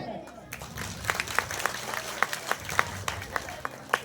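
Outdoor Ramlila stage audience applauding at a Hindi religious drama performance, a steady patter of clapping with sharp individual claps standing out over a low crowd murmur.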